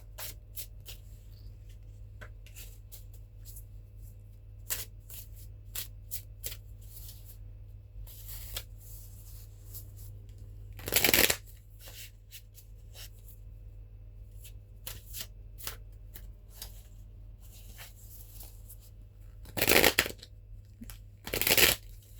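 Tarot cards being shuffled by hand over a quiet background, with many soft flicks and riffles and two louder, longer riffling bursts, all close and with no speech.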